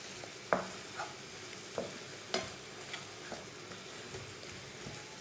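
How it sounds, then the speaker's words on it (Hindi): Okra with red chilli, turmeric and whole coriander being mixed in a pan, with faint sizzling under a series of distinct spoon scrapes and knocks at irregular intervals. "सब चीज़ों को अच्छी तरह मिक्स कर लेंगे।"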